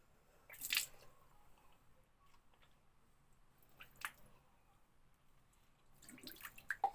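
Mouth rinsing with water after brushing teeth with a tooth-powder tablet: quiet wet swishing and squishing bursts come in about three separate rounds, with faint drips between, close and soft, with no talking.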